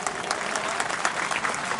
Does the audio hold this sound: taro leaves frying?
no